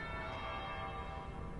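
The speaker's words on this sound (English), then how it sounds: "That would be the second bell." A church-style bell in Dragon Age: Inquisition rings with a sustained, resonant metallic tone that hangs steadily through the whole moment, layered over a low game ambience.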